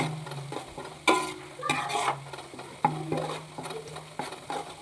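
Ginger, green chilli and curry leaves fry in oil for a pickle, with a steady sizzle under repeated scraping and clattering stirs in the pan, close and moderately loud.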